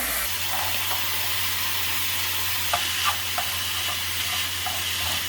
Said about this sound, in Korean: 고기가 어느 정도 이렇게 다 익을 때까지 볶아주세요